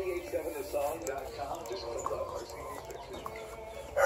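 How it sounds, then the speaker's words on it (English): Ducks and small leghorn roosters cluck and chatter inside a lit barn, a steady busy mix of close fowl calls with a louder burst at the end. "Got some ducks and a couple small roosters in here."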